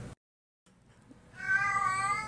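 A house cat meows once, a drawn-out, fairly loud call rising after a brief silence and faint rustle.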